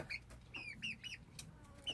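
A young chicken, raised from a chick, gives several short, bright clucks and peeps at close range, spaced irregularly through the moment with a quiet room murmur underneath and no talking.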